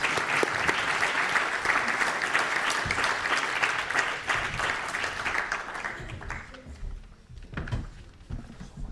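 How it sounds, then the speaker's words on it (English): Audience applause at a science and technology event marking NATO's 70th anniversary: dense sustained clapping from a large crowd for about six seconds, then thinning into scattered claps and room noise. "Please join me in, again, another round of applause."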